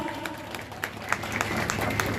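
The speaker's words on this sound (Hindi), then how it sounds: "इनके लिए भी जोरदार तालियां" Audience applause at a folk music event featuring a folk singer, a steady spread of clapping with scattered sharp claps rising slightly in density, heard alone without speech.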